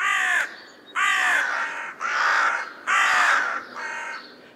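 Loud, close crow calls: five harsh caws in a steady rhythm, each lasting most of a second with short gaps between, heard alone against a quiet background.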